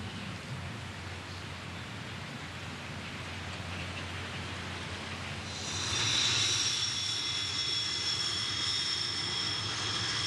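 Sukhoi Su-17M4 Soviet ground attack fighter bomber, its jet engine a steady broad roar with a low hum beneath, growing louder and adding a high whine partway through.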